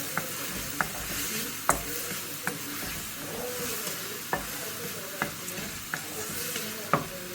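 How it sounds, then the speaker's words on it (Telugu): Masala fries in oil in a pan, giving a continuous sizzle broken by about ten evenly spaced sharp taps and scrapes of a stirring spoon. "నేను ఆయిల్ పైకి వచ్చే వరకు వేయించుకోవాలండి మసాలాని"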